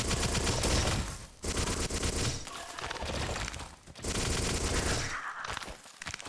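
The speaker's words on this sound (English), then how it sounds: "Run backwards while shooting." Rapid bursts of gunfire from the video game Mohrta, fired while the character runs backwards, loud and sustained with a few brief pauses between volleys.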